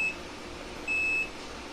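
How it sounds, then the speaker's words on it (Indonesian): A multimeter's continuity beep sounds while its probes touch IC pins on a Nichiyu forklift board, two short steady tones, the second a little longer, clear over a low background hiss. "Nah ini bunyi bip tapi sebentar"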